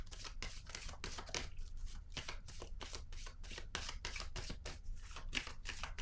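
Tarot cards riffled and shuffled by hand in a quick, steady run of crisp papery flutters, close and fairly loud, with a few sharper snaps as cards are drawn; no talking.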